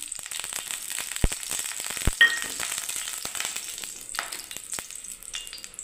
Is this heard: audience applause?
no